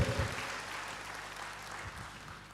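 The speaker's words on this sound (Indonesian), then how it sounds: "berikan tepuk tangan bagi Tuhan" Faint, steady applause from a church congregation, a soft wash of clapping that carries on evenly and slowly fades a little.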